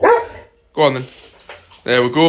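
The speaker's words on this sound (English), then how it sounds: "Excuse the dog barking." A four-month-old puppy barks in short, loud bursts at close range, alternating with someone talking nearby.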